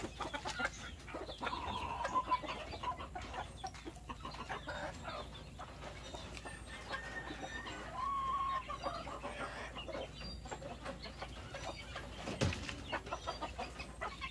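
Native chicks cheep and chirp in small high calls scattered through a quiet farmyard, with clucking fowl and a few brief knocks nearby.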